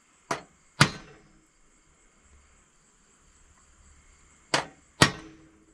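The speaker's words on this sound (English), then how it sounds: "So we're going to put that in each hole, and then just carefully make a little mark." A punch tapped lightly against metal to mark drilling spots for a Cord King M18-20 bar oil pump upgrade: four sharp, close metallic taps in two quick pairs separated by a quiet pause.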